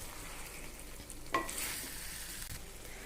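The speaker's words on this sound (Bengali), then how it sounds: "আবার একটু নেড়ে দিই। মাংস কিন্তু প্রায় সেদ্ধ হয়ে গিয়েছে খুব ভালো মতোই" Punjabi chicken masala, the meat nearly cooked and the spices releasing oil, frying quietly in a pan while being stirred: a soft, steady sizzle broken by one clear scrape partway through.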